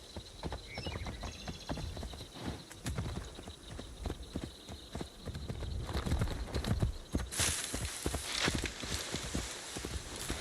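Video game horse hooves clip-clop at a steady walking pace, close and moderately loud, with faint ambient noise in the background.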